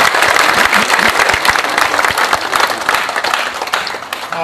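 Loud, dense applause from the audience in the memorial hall at Seoul National Cemetery during a ceremony for the 58th anniversary of President Syngman Rhee's death, welcoming board directors, sustained clapping throughout.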